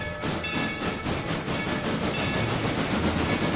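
A big logging train backs up in the railroad video game Railroader, giving a steady rumbling roll with a rhythmic clatter and hiss and no talking.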